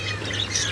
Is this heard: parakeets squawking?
yes